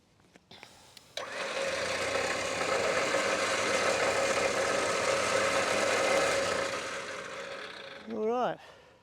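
A winch motor winds a recovery rope back in during a double-line recovery, a steady whirring drone running for several seconds, close and loud, then cutting off with a brief voice at the end.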